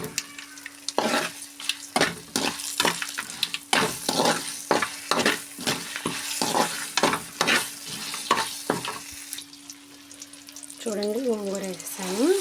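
Gongura leaves stirred and frying in a kadai for pickle, a steady close sizzle broken by repeated scraping stir strokes, easing toward the end as a brief tonal clink rises.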